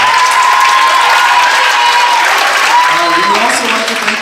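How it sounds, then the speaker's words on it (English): Sustained audience applause fills a spring concert hall after an a cappella riff-off, steady and dense throughout, with faint voices and cheers mixed into the crowd noise. "huge round of applause for them again"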